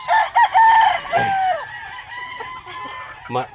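A Boston gamefowl broodstag rooster from a Negros breeder crows once in a clear, close call, followed by a shorter call and a brief cluck near the end.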